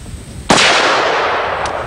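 A .308 Winchester rifle weighing a little over 9 pounds fired from the shoulder outdoors, one loud, sharp report with a long rolling decay, and a faint click following.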